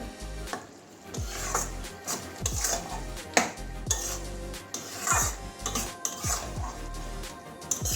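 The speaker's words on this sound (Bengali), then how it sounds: "ভালো করে মেটিয়ে নিচ্ছি এই তরকারিটা" A cabbage and jackfruit seed curry is stirred in a pan: repeated close scraping and clinking strokes of a spoon against metal in an irregular rhythm, with a soft sizzle underneath.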